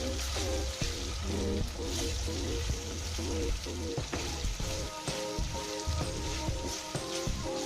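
Pork frying in oil in a pan for Bicol Express, a steady loud sizzle and crackle close by with occasional stirring clatter, continuous throughout.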